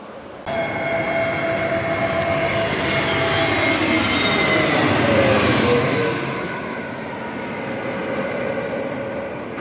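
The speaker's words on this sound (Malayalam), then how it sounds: "നമുക്ക് ട്രെയിൻ ഇവിടെ കൂടെ പോകും" A train rumbles past on the railway track near Cochin International Airport with a steady, building roar and some high metallic tones, fading a little after the loudest moment.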